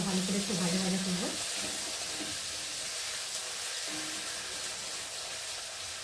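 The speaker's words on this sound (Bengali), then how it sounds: "একটু আলুটা ভালো করে একটু ভাজা ভাজা করবো।" Diced potatoes frying in a pan for a banana-flower dish, giving a soft, steady sizzle with faint hiss; a short tonal hum sounds at the start before the frying settles into an even background.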